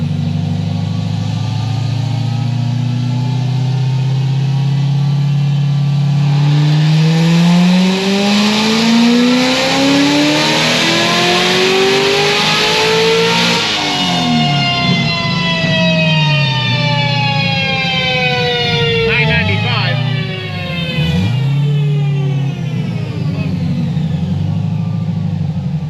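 A Corvette C6 ZR1 built to Stage 5 at 2650 revs up hard, pitch climbing steadily through the gears with loud, rising harmonics, then easing off into lower rumbling shifts near the end; no voices.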